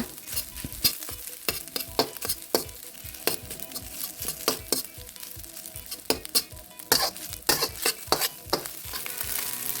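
Japanese-style garlic fried rice made with jasmine rice and butter is stir-fried in a hot pan, with a steady sizzle under a busy rhythm of spatula scrapes and clacks against the pan, close and with no talk.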